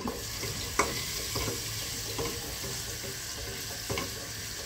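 Onion dropped into hot oil with cumin and bay leaf for a fish-head lentil dal gives a quiet, steady sizzle close by, with a few sharp scrapes of a spoon against the pan.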